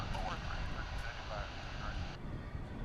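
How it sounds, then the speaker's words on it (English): A UPS Airbus A300 jet on approach at DFW International Airport produces a steady, loud, continuous engine roar that holds evenly throughout, with no talk over it. "Here does come that Airbus A300 that we saw coming in earlier, the UPS flight."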